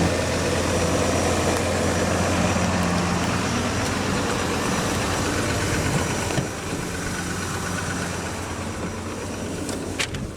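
A 2021 Ram 2500 Big Horn Crew Cab 4x4 with a Cummins diesel engine idles nearby in a steady, low, rumbling drone that holds an even level throughout.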